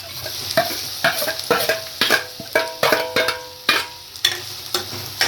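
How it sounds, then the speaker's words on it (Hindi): Onions frying in hot oil with garlic in a pan for a vegetable spice masala: a steady close sizzle broken by repeated scraping stirs roughly every half second, loud and without talk. "अब देखिए प्याज डाल रही होंगी।"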